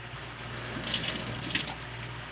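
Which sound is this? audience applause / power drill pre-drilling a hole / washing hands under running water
washing hands under running water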